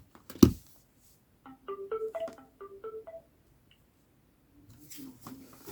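Keypad tones from a Sony Ericsson K770i mobile phone with several keys missing, a quick run of short beeps at varied pitches after a sharp click, with faint handling noise around them.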